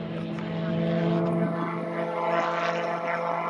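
Light STOL aircraft racing in a drag-race final, engines and propellers droning loud and steady with a strong low hum throughout, voices faintly under the roar.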